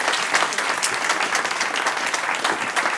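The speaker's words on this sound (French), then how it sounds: "On applaudit Maya" A comedy club crowd applauds at a stand-up show, with thick, continuous clapping that rises and falls slightly for a few seconds without any voice on top.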